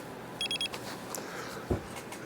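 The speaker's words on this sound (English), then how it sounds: "It's got a beep to it." An e-bike light beeps while its button is held down, giving a quick, bright burst of several short tones close by, followed by a soft click.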